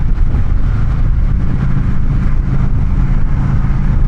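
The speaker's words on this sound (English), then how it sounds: "Oh, but it's the sound that this bike makes." A Honda Shadow Phantom 750 cruiser motorcycle rolls along a highway, its engine a low, steady drone mixed with heavy wind rush across the microphone, loud and continuous throughout.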